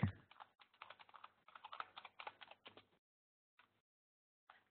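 Quick bursts of keystrokes on a computer keyboard, fairly close and moderately loud, run steadily for about three seconds, then stop, with a few isolated taps after a pause.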